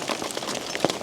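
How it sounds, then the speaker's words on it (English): Hail pelts the ground and surfaces during a thunderstorm in the Wyoming mountains, a steady, dense patter of hits with a few louder strikes, heard close by. No one speaks. "So we've got a Wyoming hailstorm here on my previous clear day."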